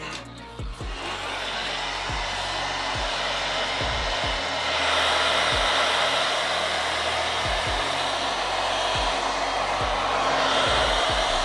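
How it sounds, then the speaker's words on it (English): A hot air gun blows steadily to heat the adhesive of an iPad Pro 12.9-inch 2nd generation (A1670) screen, a loud continuous whooshing roar with a few low thumps of handling, and it swells slightly louder midway. "heat with the hot air gun"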